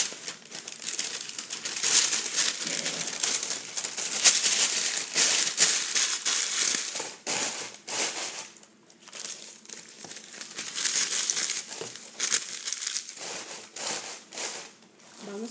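Gift wrapping paper being crumpled and arranged into a bed under a baby shower present, with continuous close crinkling and rustling in uneven bursts and brief quieter pauses.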